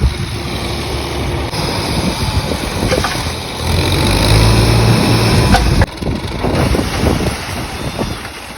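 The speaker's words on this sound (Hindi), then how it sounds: "यहाँ पे तो ये ऊपर हो रहा है ट्रैक्टर का ताला" Tractor trolley being hydraulically raised to tip out its load at a goat farm: a steady engine drone with a strain that rises in the middle, outdoors under wind noise, fairly close and continuous.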